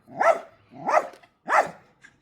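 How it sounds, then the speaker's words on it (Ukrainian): A dog barks three times in an even rhythm, loud and close, each bark sharp and slightly whiny, followed by a faint trailing yip. "ти ще не втомився гавкати?"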